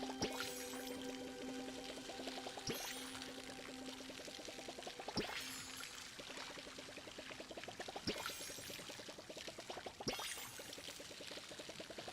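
A watering can is filled with water in the video game Palia, a quiet pouring trickle whose pitch rises as it fills, repeating several times in a row with soft splashes between fills.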